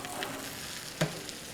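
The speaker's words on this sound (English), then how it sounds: "I'm going to add a bunch of the asparagus. Hear that nice sizzle." Asparagus, mushrooms and fiddleheads sizzle steadily in hot oil in a pan, a close, even crackle with one brief sharp clatter about a second in.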